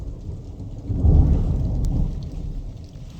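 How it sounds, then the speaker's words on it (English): Thunder rumbles low and heavy through steady rainfall during a thunderstorm, building to a deep roll around the first second and fading slowly beneath the constant hiss of rain. "Oh, I think I hear rain."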